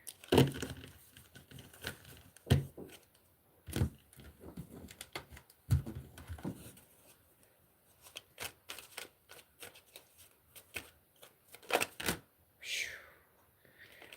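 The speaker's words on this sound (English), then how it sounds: "I'm going to shuffle through here." Tarot cards are shuffled close by in bursts of crisp riffling and soft flicks with quiet pauses between, during a reading.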